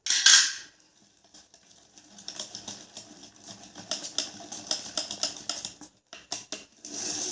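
Chopped cake ingredients, including bits of ash gourd preserve, stirred together in a bowl for a homemade sponge cake, giving irregular scraping and clinking of a spoon against the dish, soft at first and then busier and louder.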